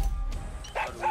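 A small dog in a video game gives a couple of quick, light yipping barks, close and fairly quiet against a low background hum.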